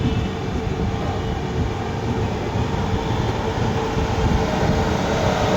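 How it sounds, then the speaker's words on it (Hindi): A Hatia–Islampur–New Delhi Magadh Express train rumbles past at speed, a steady, loud roar of wheels and rail noise with no voices. "ये है हटिया इस्लामपुर नई दिल्ली मगध एक्सप्रेस"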